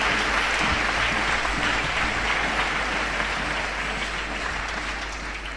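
A church congregation at a worship service applauds loudly and steadily, a dense continuous wash of clapping from a large crowd that fades slightly toward the end.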